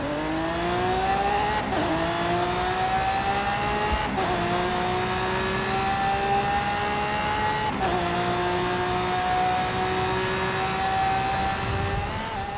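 A Hoonigan RS200 rally car in a racing video game roars at high revs, its engine note climbing and dropping sharply with each gear shift, loud and continuous throughout.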